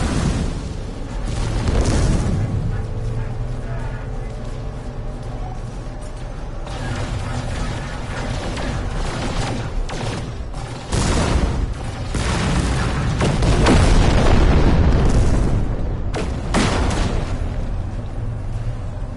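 A freighter battle in No Man's Sky, heard as a steady, loud rumble of deep booming explosions and bursts rolling on for about twenty seconds, with heavier blasts swelling near the middle and later.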